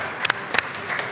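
A small group claps briefly for a cameraman, a few scattered bursts of hand claps spread across a second of faint room noise.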